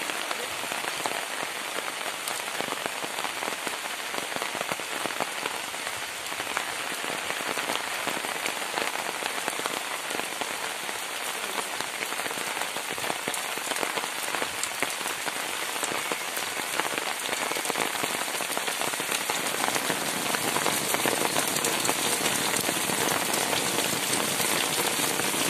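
Heavy rain pours steadily during the dry season, a dense continuous hiss of drops drumming on surfaces, loud and unbroken throughout with no voices.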